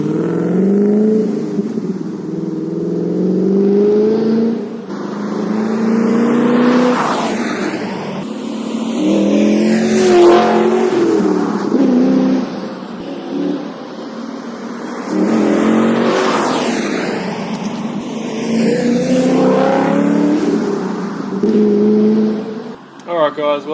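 Modified, cammed V8 Holden VE/VF Commodore with a 6.0 or 6.2 litre LS engine, full exhaust and an over-the-radiator intake, driven hard: repeated deep revving surges and gear changes heard from inside, with people talking over the engine.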